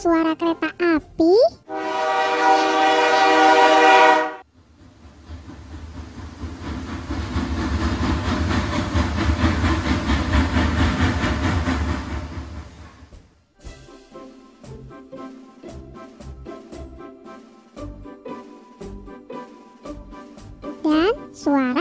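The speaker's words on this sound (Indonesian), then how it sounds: "Suara kereta api." A train rumbles past with a steady clattering roar for several seconds, preceded by a short burst of tonal horn-like sound and followed by music.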